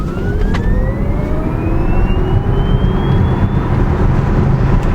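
A car accelerates hard from about 8 mph, its rising whine sweeping steadily upward in pitch over a loud, dense rumble of road and wind noise, sustained and close throughout.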